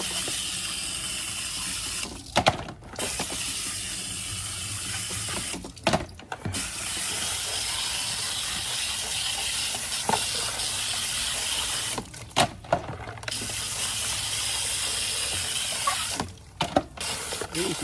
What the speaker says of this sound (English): Hose off the inside.